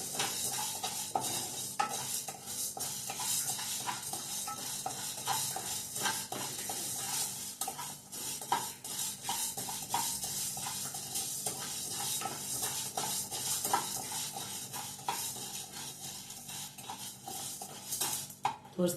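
Spices for homemade sambar powder frying and being stirred in a pan over a medium flame, with a steady soft sizzle and repeated scraping and stirring clinks, close by and alone without talk.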